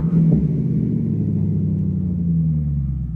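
A V8 engine on an American car revs and then eases off, a deep loud roar that slowly falls in pitch, heard up close with no speech.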